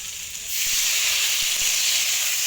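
Tomatoes and small Japanese puti fish from a pond hit a hot pan over a clay village stove, setting off a loud, steady sizzle that starts abruptly and holds, with faint knocks underneath.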